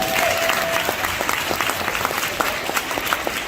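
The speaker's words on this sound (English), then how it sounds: "give him a hand clap of praise" A church congregation gives a steady, full round of applause as a hand clap of praise, dense clapping from many people at even loudness throughout.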